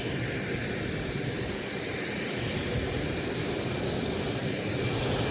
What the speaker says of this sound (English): Got a citation making noise over here.